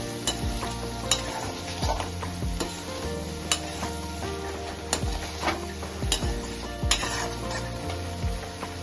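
Schezwan sauce sizzles in a hot pan as a utensil stirs it, with repeated scraping and clicking strokes at an irregular rhythm over a constant frying hiss.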